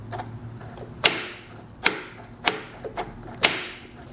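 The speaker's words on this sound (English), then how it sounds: "now we're going to do a test with pushing the throttle, making sure it snaps back down" A cheap Chinese four-wheeler's throttle is pushed and released, snapping back with about five sharp, distinct clicks at irregular intervals over a faint background hiss.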